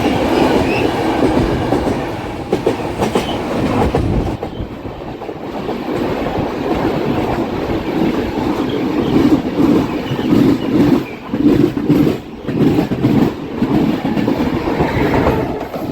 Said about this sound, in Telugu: అదిగోండి ఇంకో బండి వెళ్తుంది చూడండి, ఎల్హెచ్పి బండి